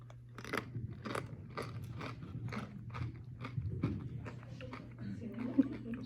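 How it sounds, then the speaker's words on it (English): Someone bites and chews salsa with chips, a run of close, crisp crunches repeating in an irregular rhythm for several seconds over a low steady hum. "Go ahead and taste the first salsa."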